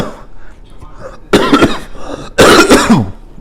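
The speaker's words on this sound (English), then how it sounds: "I have like a really bad cough right now" Two harsh, close coughs from a person with a bad cough, separated by about a second of quiet, each a short, forceful burst.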